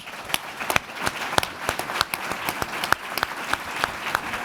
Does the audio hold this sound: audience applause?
yes